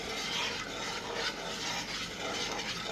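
Blackberry syrup being stirred in a pot, a soft continuous swishing and scraping with faint bubbling, close and quiet, rising and falling in gentle strokes without any voices.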